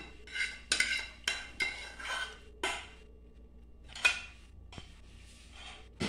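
Pasta with a thick sauce being stirred in a pot for a Sunday family lunch, a series of close metallic spoon scrapes and clinks against the pot at an uneven rhythm, with quiet gaps between strokes.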